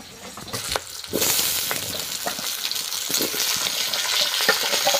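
Vegetables, including potato and Malabar spinach, drop into a hot pan and fry with a loud, steady sizzle, accompanied by repeated stirring scrapes and clatters close by.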